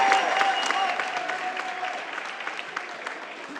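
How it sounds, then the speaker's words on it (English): Steady crowd applause fills an arena after a welterweight boxing bout, a dense wash of clapping that fades slightly over a few seconds, with no voice over it. "let's give both fighters a big round of applause."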